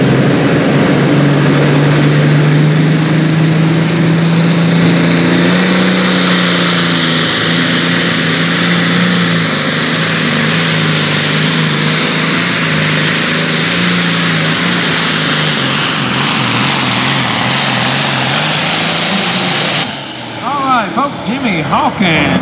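A pulling tractor from War Trace, Tennessee, roars loud and close at a Hopkinsville, Kentucky pull, its engine rising and holding a sustained, rough howl before cutting off near the end, with an announcer talking over it.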